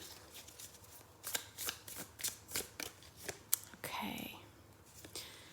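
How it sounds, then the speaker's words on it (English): Tarot cards being shuffled and pulled at close range, a run of quick riffling flicks followed by a softer sliding swish as cards are drawn, quiet and intimate. "let's just pull a couple of cards for it now"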